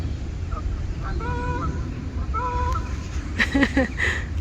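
Short nasal honking calls from ducks in a few bursts, fairly near, over a steady outdoor background with some faint chatter, in Wolsey Garden in winter.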